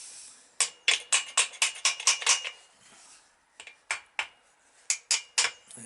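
Sharp metallic taps from a small hammer driving a bearing into a Yamaha XS650 engine cover ring out in a quick run of about ten, then after a pause, another rapid series of blows.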